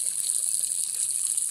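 Permeate water runs steadily through a maple sap line being flushed, a continuous close hiss and trickle without pauses.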